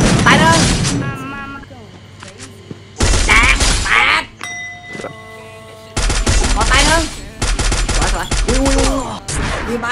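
Rapid bursts of gunfire in the battle royale game Free Fire, loud and close, coming in dense volleys separated by short gaps, with excited voices talking over much of the shooting.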